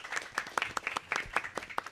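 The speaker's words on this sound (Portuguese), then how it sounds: "As palmas, então, para Maria Cristina." A small audience in a library claps for Maria Cristina, a sparse patter of distinct, separate hand claps from a handful of people, fairly soft and close.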